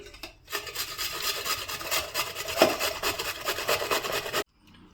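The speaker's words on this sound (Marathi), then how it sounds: "काकडीची साल काढून झालेली आता मी आता ना किसून घेते" A peeled cucumber is grated for a paratha: steady, rhythmic rasping strokes sound close and moderately loud, then stop abruptly before the end.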